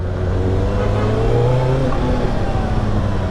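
A 2024 Kawasaki ZX-6R sport bike with a front ram air intake, heard close and loud on the move as a steady, droning engine roar with wind rush and a slight rise in pitch.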